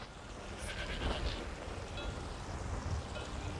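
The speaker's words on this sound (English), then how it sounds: "Goat." A goat bleating in a VR video game, a few short bleats over a soft rain-like background hiss, fairly faint and without talk.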